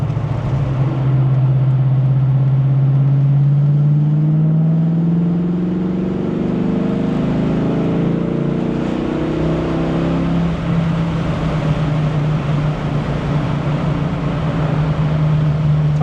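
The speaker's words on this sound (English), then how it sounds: "So I'm going to start doing some pulls and break this thing in." Ford Foxbody Mustang with GT40 heads and B cam, loud engine climbing steadily in pitch through a long break-in pull under load, then easing to a steady drone near the end; no talking.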